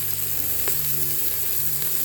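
Onion sautéing with beetroot and other hard vegetables in a pan for tomato soup gives a steady, close sizzle and crackle with a light stir, and no talk.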